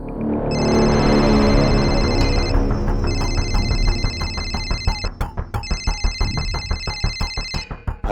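A telephone rings in repeated electronic bursts, loud and close, with a busy background that thins out into clattering thumps toward the end.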